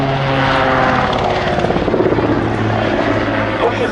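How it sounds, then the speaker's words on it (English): An autogyro with a 115 horsepower Rotax 914 engine flies past at an air show, its rotor and propeller producing a loud, continuous throbbing drone close at hand. "Pushes the Autogyro through the air,"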